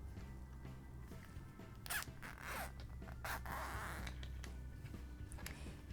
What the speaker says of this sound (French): Maintenant, ce qu'on va faire, c'est qu'on va ouvrir de nouveau le fermoir.